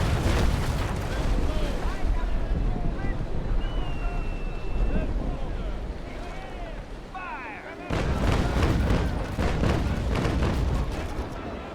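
Ship cannons booming in the naval combat game Naval Action, heavy rumbling broadside fire and boat noise with wind, continuous and loud, with a brief drop before the firing resumes strongly near the end.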